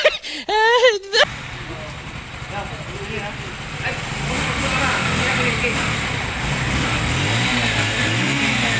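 A Bajaj CT125 motorcycle engine runs with a steady mid-pitched chug that builds as it is revved, heard close by after a man's short burst of speech at the start.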